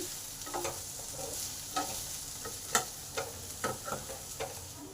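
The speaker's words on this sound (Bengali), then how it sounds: "পেঁয়াজ আলু সব ভাজা ভাজা হয়ে এসেছে" Onion and potato pieces frying in a pan, a quiet steady sizzle broken by several soft scraping stirs and light clinks, close up with no talking.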